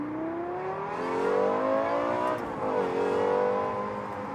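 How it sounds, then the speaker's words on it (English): Lexus LFA supercar exhaust revving from inside the cabin, a loud rising engine howl that climbs, dips briefly around the middle, then surges again, with no talking. "So let's hear this exhaust."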